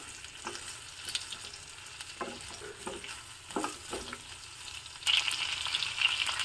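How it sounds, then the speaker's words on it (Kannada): Okra (lady finger) frying in a large pan, stirred with scraping strokes, a steady sizzle growing louder and brighter toward the end. "ಈಗ ಸ್ವಲ್ಪ ಲೋಳೆ ಅಂಶ ಹೋಗೋವರೆಗೆ ಇದನ್ನು ಚೆನ್ನಾಗಿ ಫ್ರೈ ಮಾಡ್ಕೊಳ್ಳೋಣ"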